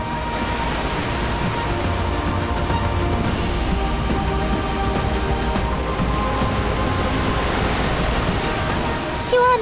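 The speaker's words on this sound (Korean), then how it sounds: "약 50m 길이의 타피아 폭포입니다." Tapia Falls, a waterfall about 50 m tall on Luzon in the Philippines, roars as a loud, steady broadband wash of falling water that continues unbroken throughout, with brief voices faint beneath it.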